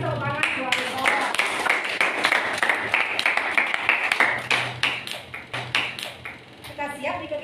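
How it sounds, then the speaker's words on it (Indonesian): Classroom applause of many hands clapping, loud and close, with a teacher's voice speaking over the start and a bright ringing ping mixed in. "Kasih tepuk tangan buat Nicholas."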